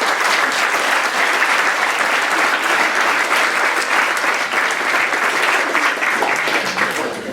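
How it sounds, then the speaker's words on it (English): A crowd at a Clare Minor B hurling final replay between Scariff O'Gonnelloe and Broadford gives the Broadford team a loud, sustained round of applause, steady throughout and easing slightly at the end. "I would like to see a big round of applause for Broadford Q."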